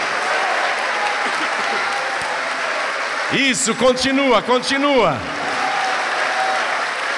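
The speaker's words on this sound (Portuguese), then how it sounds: "vamos dar para esta palavra a melhor salva de palmas" A church congregation in Rio de Janeiro applauds in a loud, continuous wash of clapping, while someone speaks briefly over it in the middle.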